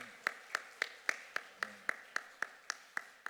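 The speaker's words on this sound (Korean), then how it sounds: "하나님께 영광의 박수 올려드리겠습니다" Congregation in a church worship service clapping hands in a steady rhythmic beat, about a dozen even claps spaced roughly a quarter second apart, moderately loud in a reverberant room.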